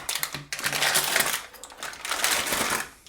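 A Brother TN830 toner package being torn open, with bursts of crinkling plastic and cardboard rustling close by, in two main spells with a short pause between.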